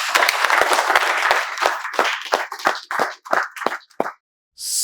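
A small group claps in a burst of individual, distinct hand claps that thin out and stop, close and fairly loud, welcoming students to an English class.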